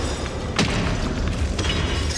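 Explosion in the video game Honkai Star Rail during a boss battle: a sudden loud burst with a shattering crack, followed by a second blast a moment later, both over dense, continuous game noise.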